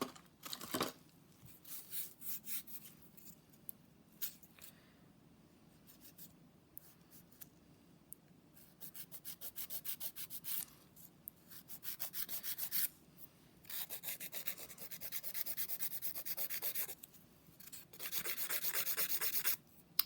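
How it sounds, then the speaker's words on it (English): A 180 grit file rubs over a nail surface during a manicure, giving dry rasping strokes in bursts that grow busier and louder toward the end, close by with no talk. "I'm going to file with my 180 grit file"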